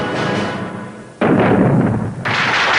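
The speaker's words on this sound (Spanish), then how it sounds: "la tripulación, bajo el mando de los bolcheviques, hará un disparo que será la señal para atacar el Palacio de Invierno" A cannon shot fired from the cruiser Aurora booms suddenly out of a noisy, rumbling background, then a second loud blast follows soon after, both close and heavy.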